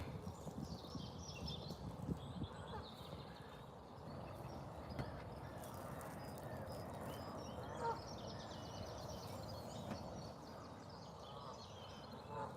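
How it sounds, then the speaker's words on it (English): Canada geese and other waterfowl honk and call together in a suburban park in the early morning, a busy chorus of overlapping calls at moderate distance running steadily throughout. "Most of them are geese. I don't think any of them are ducks."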